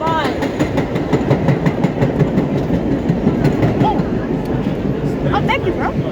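An R32 subway train runs on its tracks with loud, continuous rumbling and rhythmic clickety-clack, metal squeals rising now and then, heard from inside the car.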